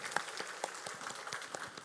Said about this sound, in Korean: 우리 다시 한번 삼여전도회 위해서 격려 박수 한번 하도록 하겠습니다